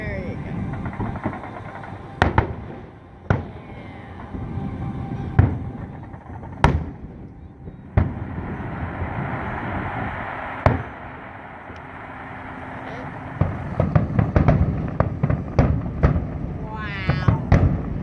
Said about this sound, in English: That is the most fireworks I've ever seen at one point.